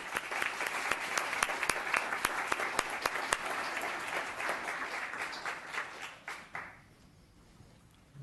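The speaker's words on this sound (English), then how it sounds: "Another round of applause." Audience applause at a town council meeting, a crowd of many hands clapping steadily in a room before tapering off and fading to quiet near the end.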